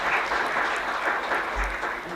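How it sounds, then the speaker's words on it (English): At a Seoul aerospace forum, a conference audience gives steady applause to welcome a newly arrived head of mission, the clapping even and moderately loud from start to finish. "you give him a round of applause?"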